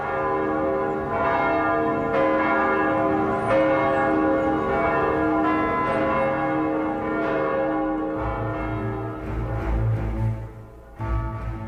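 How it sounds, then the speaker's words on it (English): Church bells across Moscow ring out together in a dense, sustained peal of overlapping resonant tones for a Romanov tsar's coronation, continuous and loud with no voices. "Every bell in Moscow's hundreds of churches rang out for the latest and last of the Romanov Czars."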